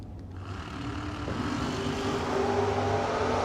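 A 1967 Camaro drag car launching at a drag strip, a loud engine roar that builds steadily in strength over a few seconds, close and dominant with no talk.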